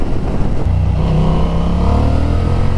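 A 2025 Honda Hornet 750 motorcycle engine drones loud and close under acceleration, with a rising harmonic tone and steady wind rush throughout.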